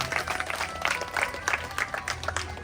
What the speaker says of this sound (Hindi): जोरदार से तालियों से बाबा का धन्यवाद करें